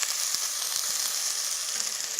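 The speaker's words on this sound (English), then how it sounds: "Love that sizzle when you put something in a pot" Food sizzling in a pot as cooking of a creamy Thai pumpkin soup begins, a steady bright hiss of frying with a few soft stirring knocks underneath.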